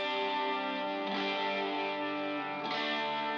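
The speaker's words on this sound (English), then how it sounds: "these strums here, and I also processed those with the Tone King" Strummed guitar chords run through a Tone King Imperial amp with light post EQ, sustained and shimmering with an effects-laden, slightly distorted tone; steady strums fairly close and alone, a fresh strum landing near the end.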